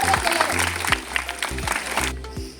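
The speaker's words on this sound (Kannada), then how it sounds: "ಚಪ್ಪಾಳೆ ತಟ್ಟಿ ಪ್ರೋತ್ಸಾಹ" Audience clapping in encouragement at a primary school quiz program, brisk applause from a room of people mixed with voices and a rhythmic musical beat underneath.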